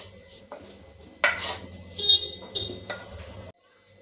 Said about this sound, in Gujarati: બેસન એડ કરી અને મિક્સ કરી લેશું.